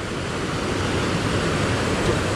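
Water rushing through the Strid, a narrow rock gap on a dangerous river, a loud, steady roar of turbulent flow close by with no breaks.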